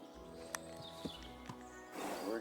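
Horse in the video game Kingdom Come: Deliverance II, several soft hoof clip-clops spaced through a quiet game ambience, with a swell of louder noise near the end.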